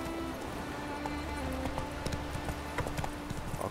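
Roach, a horse in The Witcher 3, gallops in a steady clip-clop of hooves that runs the whole way through, with the game's ambient sound underneath.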